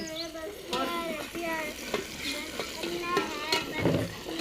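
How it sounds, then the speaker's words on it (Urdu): Tadka being prepared in a home kitchen, spices tempering in hot oil with a steady sizzle under scattered clinks and stirring scrapes, while children's voices chatter faintly in the background. "ابھی امی جی نے جو ہے تڑکا وغیرہ لگا رہی ہے"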